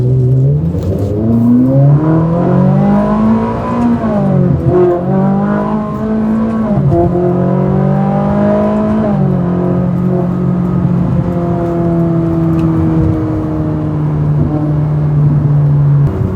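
A Ferrari engine drones while driving, a loud steady close tone that climbs, drops at shifts and climbs again, with long sustained stretches between, no speech.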